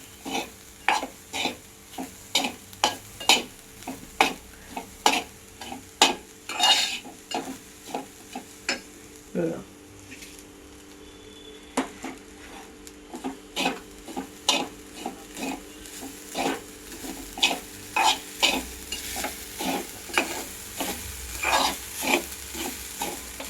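A grated mixture being cooked down in a pan for patole is stirred with a spoon in an irregular rhythm, each stroke a sharp close scrape or tap, over a quiet underlying sizzle.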